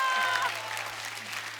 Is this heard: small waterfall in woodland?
no